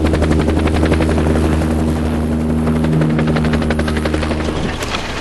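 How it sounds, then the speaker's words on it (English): A helicopter's rotor thumps in a loud, rapid, steady beat over a droning turbine whine, close and continuous throughout with no voices. "This is the chopper's tail rotor."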